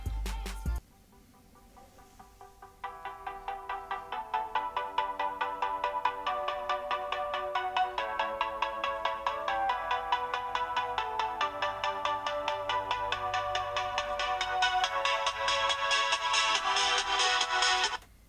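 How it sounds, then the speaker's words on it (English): Royalty-free music played through the built-in speaker of a Nook 10.1 tablet: a tinny, steady melodic track with a pulsing beat after a brief thump at the start, moderately loud, running on alone until it cuts off. "This is some royalty-free music we're just going to use as a sound benchmark"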